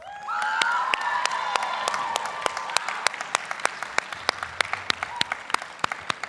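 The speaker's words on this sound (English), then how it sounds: "Please do your best to hold your applause until the end." Students and families applaud at a school award assembly, starting as a dense crowd burst with a few whoops, then thinning to scattered individual claps by the end.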